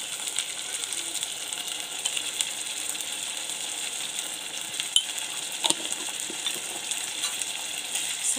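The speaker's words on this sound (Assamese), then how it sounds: "তাৰপিছত এবাৰ মই লৰাই দিছোঁ" Onions fried until reddish, with spices and turmeric added, crackle in a pan as they are stirred. A steady close sizzle carries scattered metallic clinks and scrapes from the stirring.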